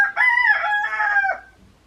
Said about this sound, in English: Now, that's the baby rooster. He just now getting his throat.